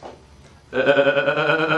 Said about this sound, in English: John, it's the goat run for the hills!